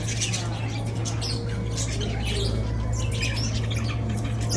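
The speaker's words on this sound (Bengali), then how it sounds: "এত পাখি এখানে কেমনে চিল্লাইতেছে।" Many caged birds in a laundromat in Jamaica, Queens, squawking and chirping constantly and loudly over a steady low machine hum.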